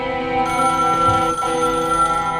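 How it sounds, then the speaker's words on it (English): A telephone rings with a loud, steady electronic trill that sounds continuously and close, alone with no talk over it, during a live stage reading of The Matrix opening scene. "A phone begins to ring."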